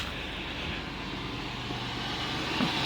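An Oldsmobile Silhouette engine with a hard-starting fuel system idles steadily as a constant broadband drone, close and unchanging, without talk.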